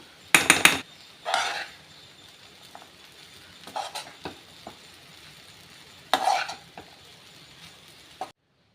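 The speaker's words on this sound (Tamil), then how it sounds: "இந்த வெஜிடபிள்ஸ் கூட நல்லா மிக்ஸ் பண்ணி விட்டுடலாம்" Vegetables and ragi semiya being mixed in a pan for kichdi, heard as a few separate bursts of spoon scraping and stirring with quiet gaps between them, close and moderately loud, no voices.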